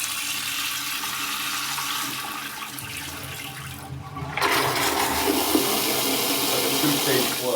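A toilet's two-stage flush rushes and gurgles loudly nearby; a first swirl of water gives way to a stronger second surge of draining and refilling.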